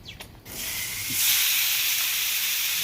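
Precooked cubed cow tongue hits a hot pan for searing, with a few soft clicks and then a rising, steady hiss of steam and sizzle that stays loud and even.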